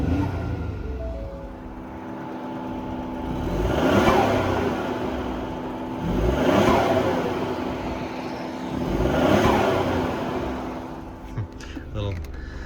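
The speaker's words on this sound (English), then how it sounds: "All right, RPMs here. Quick rev test." Engine of a Ford Bronco Sport Outer Banks 4WD revved three times while parked, each rev a smooth swelling rise and fall over steady idle, close and moderately loud.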